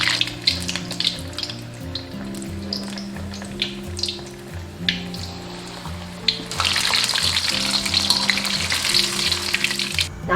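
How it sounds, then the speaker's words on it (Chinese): Oysters deep-fry in oil over medium-low heat with steady sizzling and bubbling crackle, plus a low background hum. The sizzle swells noticeably louder and denser partway through. "全程中小火炸"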